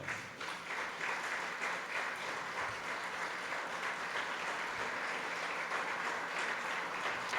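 A church congregation applauds steadily throughout, a dense, sustained wash of many hands clapping at even loudness with no break.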